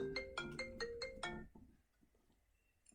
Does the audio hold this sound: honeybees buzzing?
no